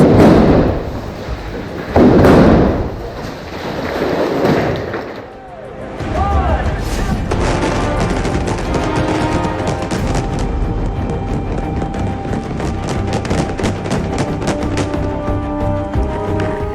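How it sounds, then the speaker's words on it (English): Several heavy booming pyrotechnic blasts on a film set in the first seconds, followed by a long rumbling, crackling roar with scattered bangs and debris-like clatter. "Large explosions are simulated on set during robot fight scenes."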